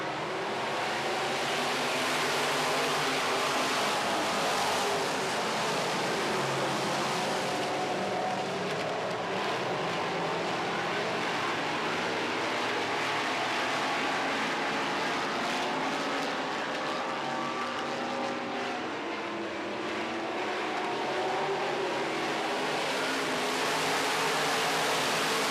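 Modified race cars in a Midwest Modifieds feature race roar around the track, a broad, fairly distant rushing engine drone that swells and fades slightly over the whole stretch.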